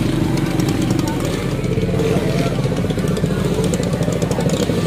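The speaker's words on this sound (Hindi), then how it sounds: "गाइस देखो भाई गाड़ियां ही गाड़ियां आपको दिखेंगी इधर।" Several motorcycles idle and rev together at a crowded roadside gathering of racers, a loud, steady engine drone with rattling clatter and occasional throttle blips, and people talk amid the noise.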